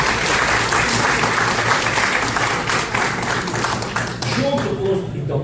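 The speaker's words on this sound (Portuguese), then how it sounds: "peço uma salva de palmas para os jovens" A crowd of young Rotaract members receives sustained, dense applause at a Rotary Foundation grants management seminar, loud and continuous throughout, with a few voices faintly underneath.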